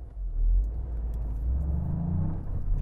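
Toyota GR Yaris and MINI GP engines held in third gear in their sportiest mode before a rolling drag race, a steady low rumble of idling and lightly revving cars close by, with no talk.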